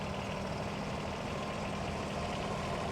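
A Kubota B7001 garden tractor with a single-furrow plough fitted sits idling at a ploughing match, its small engine giving a steady, even low rumble that carries on unchanged from start to finish.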